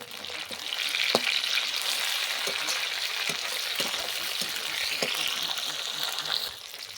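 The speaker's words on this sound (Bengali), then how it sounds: "এইবার আমি টমেটো কুচিটা দিয়ে দেব, দিয়ে 5 মিনিট আরও একটু ভেজে নেব।" Chopped onion and tomato fry in a pan with a steady broadband sizzle, punctuated by a few sharp clicks and scrapes of stirring, fairly close and continuous without talk.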